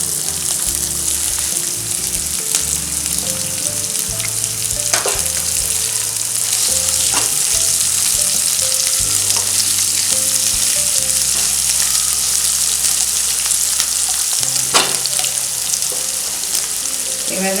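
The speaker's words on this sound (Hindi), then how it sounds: "इसके बाद इस पर प्याज डाल देते हैं।" Onions fry in a pan for hara bhara kabab, giving a loud, steady sizzle across the whole stretch, with occasional sharp clicks and spatters breaking through. No one speaks.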